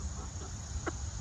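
On a farm, a chicken gives a single short cluck over a low, steady background hum, faint and close, with no voices.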